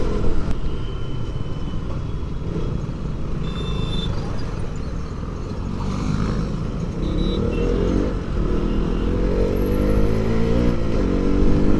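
Busy road traffic passing close around a motorbike near Lonavala, Pune, with a steady engine rumble and vehicles revving by continuously, loud and unbroken, with no talking.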